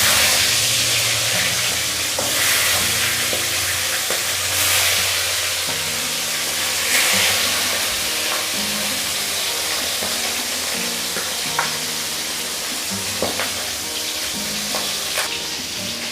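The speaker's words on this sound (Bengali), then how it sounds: "এবার আমি এর মধ্যে মাছের মাথাগুলো দিয়ে ভেজে নেব।" Katla fish heads frying in hot oil in a kadai, a continuous hissing sizzle with popping spatters and occasional crackles, close and steady throughout.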